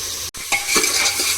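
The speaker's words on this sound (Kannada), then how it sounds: "ನೆನೆಸ್ಕೊಂಡಿರೋಂಥ ಬಟಾಣಿ ಮತ್ತು ಕಡಲೆಕಾಳನ್ನ ಒಗ್ಗರಣೆಗೆ ಹಾಕ್ತಾ ಇದ್ದೀನಿ" Soaked peas and chickpeas hit a hot tempering of fried onions, giving a close sizzle with stirring scrapes after a brief silent gap.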